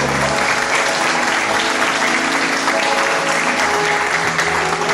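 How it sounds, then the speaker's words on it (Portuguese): Dense, steady applause from a church congregation fills the space, loud and continuous with no break and no talk over it. "Aplauda Ele"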